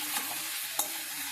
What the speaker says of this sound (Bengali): তো মশলাটা আবার ভালো করে কষাবো, সবজিটাকে নেড়ে দেবো একটু ভালো করে,